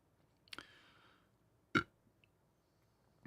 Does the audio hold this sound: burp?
yes